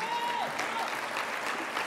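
A crowd at a November 2011 success day event applauds Thierry Launay and his wife Patricia with steady, continuous clapping that fills the room. Faint voices sit underneath the applause.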